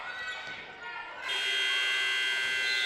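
A basketball game buzzer sounds at the end of the first half of a women's college game in a gymnasium, a sustained loud electronic tone starting partway through over crowd noise.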